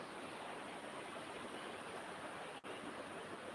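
The Khwae Noi river flowing in Kanchanaburi, Thailand, a faint, even rush of moving water heard alone with no talk.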